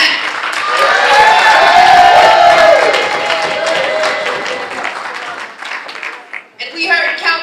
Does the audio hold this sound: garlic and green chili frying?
no